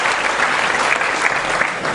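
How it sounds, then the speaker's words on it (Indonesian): Loud, dense audience applause fills the whole stretch, a close and steady roar of many hands clapping at an anti-corruption song performance event. "Tepuk tangan semuanya."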